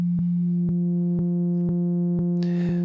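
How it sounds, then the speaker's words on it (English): A synth sub bass plays a clean sine wave as one sustained low tone, pulsed in even repeated notes, with a brief noisy burst near the end. "This is a clean sine wave."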